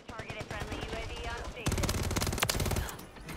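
Remote turret machine gun firing in the Hordepoint mode of a shooter video game: a rapid, dense stream of loud automatic shots, mixed with game effects and voices before the heaviest burst.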